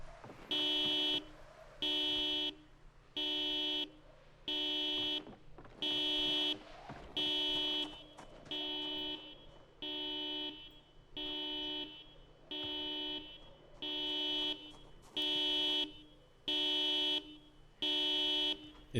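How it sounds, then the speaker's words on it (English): A car alarm blares in a zombie survival video game, sounding about a dozen loud, evenly spaced horn blasts of roughly a second each, with faint low rumbling between them and no speech. "It's a car with a battery. It's an invisible car with a battery."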